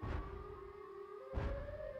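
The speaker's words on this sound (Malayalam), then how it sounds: "സൈറൺ ഹെഡിന്റെ സൗണ്ടാ" The Siren Head creature's siren call wails as a long, eerie, wavering tone that steps up in pitch partway through, with dull thuds at the start and middle, faint and distant.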